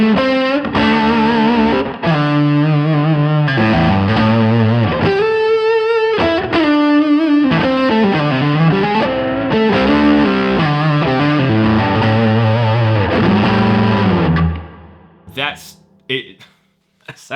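Electric guitar run through a Neural DSP amp plugin on its Golden Gate preset, with overdrive and chorus-like modulation, plays sustained chords and melodic lines loud and steady for about fourteen seconds before fading into a few quiet picked notes.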